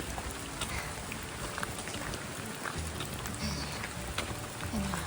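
Heavy rain pours steadily during a hike to the Rio Celeste waterfall in Costa Rica, a dense close hiss of drops pattering on surfaces and foliage with no break, faint and continuous throughout.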